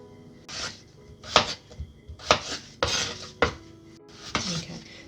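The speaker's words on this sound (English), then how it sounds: "cut it in half, cut it in half again, and then probably I would do 3 slices through that" A knife slicing washed red potatoes on a cutting board, giving several distinct close cuts and knocks against the board at an irregular pace, with faint clinks between them and no talking.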